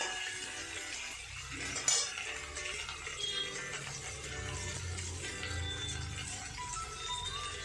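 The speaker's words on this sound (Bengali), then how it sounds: "এবার এটা ভালো করে ভেজে নেব।" Jeera aloo potatoes being fried and stirred in a pan, with a soft steady sizzle under faint clinks of a spoon against the metal and one sharper clink early on.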